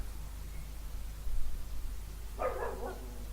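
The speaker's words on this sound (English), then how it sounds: "Again, I'm sorry for the dog." A dog gives a single short bark partway through, fairly faint and indoors, over a steady low hum.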